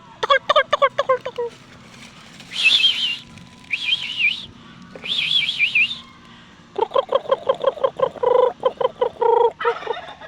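Domestic turkeys gobble in rapid rattling bursts, mixed with high whistling calls from other birds, fairly close and loud.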